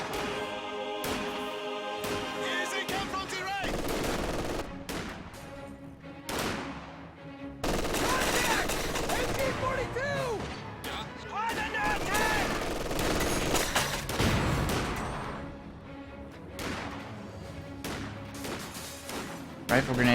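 Mortar rounds strike a building in a World War II strategy game, buried in nearly constant machine-gun and rifle fire with repeated heavy impacts and talk over the battle.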